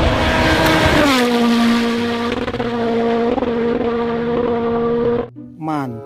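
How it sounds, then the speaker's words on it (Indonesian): A toy race car gives off a loud, sustained engine whine that drops in pitch early, then holds steady and revs slightly for several seconds before cutting off abruptly, followed by a brief rising buzz. "Mobil balap, teman-teman."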